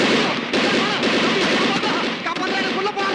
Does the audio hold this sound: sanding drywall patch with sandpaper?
no